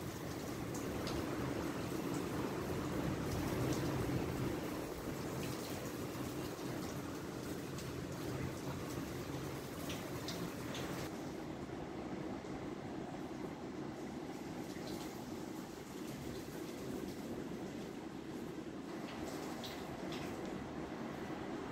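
Big ocean waves crash and surge during Hurricane Hilary in Baja, Mexico, a continuous loud roar of surf and wind-driven water that hardly lets up, with no talk over it.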